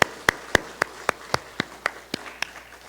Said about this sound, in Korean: 우리 하나님 앞에 감사와 영광의 박수 올려드리겠습니다.